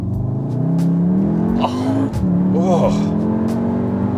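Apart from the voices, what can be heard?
Volkswagen Tiguan R engine revving as it downshifts in race mode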